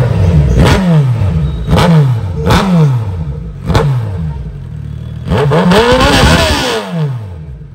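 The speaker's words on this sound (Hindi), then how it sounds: "एक बारी जरा बाइक को ऐसे भी स्टार्ट करके आपको आवाज़ सुनाते हैं कि कैसी आवाज़ आ रही है।" A third-generation Suzuki Hayabusa engine runs with no exhaust fitted, loud and close, snapping through five sharp revs that rise and fall with a raw mechanical clatter between them.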